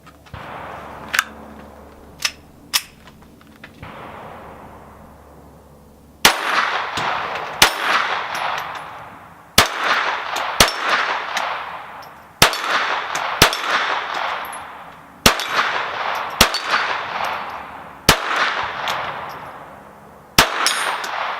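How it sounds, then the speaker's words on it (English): Sharp rifle shots crack in a steady series, several followed by faint metallic pings from distant steel targets, with pauses between shots. "Sometimes it's a little hard to hear the tinging of the steel"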